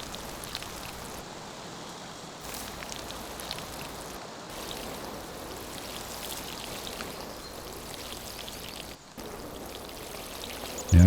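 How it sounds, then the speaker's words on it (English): Greenhouse plants are watered in the farming game Farmer's Dynasty 2, a steady spray and patter of water that runs evenly throughout, with a brief dropout near the end. "I think we better water these while we're at it."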